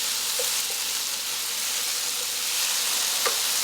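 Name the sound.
potatoes frying in bacon fat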